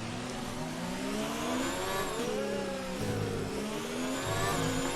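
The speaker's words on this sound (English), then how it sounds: "You'll hear the engine clicking away as I chose not to put a new ICE in for this weekend" A Ferrari Formula 1 car in F1 2019 racing at Monaco, its engine running with an unrefreshed ICE, screams steadily near the camera, its pitch rising and falling through gear changes with a faint tire squeal.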